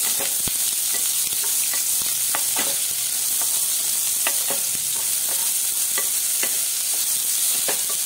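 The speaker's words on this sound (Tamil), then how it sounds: "சேர்த்துட்டு இதை நல்லா நம்ம வதக்கி விட்டுடலாம்" Finely chopped onion sautéing in a hot pan, a steady close sizzle broken by the scrape and clack of a spoon stirring now and then, with no talking.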